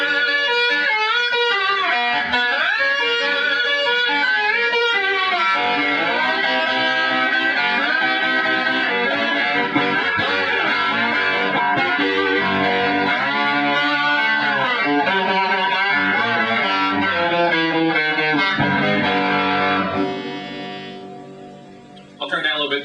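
A 1960s Kay electric guitar played with a glass slide in open G tuning through a cranked 1961 Fender Super amp, thick sustained distorted slide notes ringing continuously and loud, then fading out near the end.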